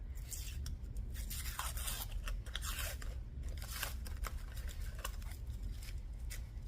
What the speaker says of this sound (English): I'm going to peel off one side of this backing paper